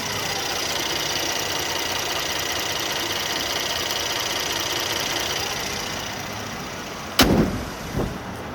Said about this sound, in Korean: 와, 엔진음도 상당히 정숙했습니다.